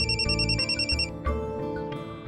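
A mobile phone rings with an incoming call, a loud, close melodic ringtone repeating its tones in a steady pattern before cutting off, heard alone with no voices.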